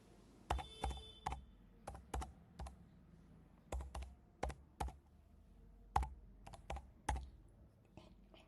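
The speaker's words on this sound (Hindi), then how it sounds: "यहाँ पे कस्टमर का आधार नंबर टाइप करेंगे।" Keys tapped on a computer keyboard while an Aadhaar number is entered during a PAN card correction, a series of separate, fairly close clicks in small irregular bursts, with no talking.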